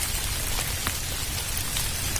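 Heavy rain pours down steadily outdoors near a site in Indonesia, a dense, loud hiss of drops on surfaces with scattered sharper spatters, no voices.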